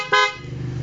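Horn on a modified Barako 175 motorcycle with full-wave electrical setup, one short loud honk that quickly fades into a lingering hum; no talking.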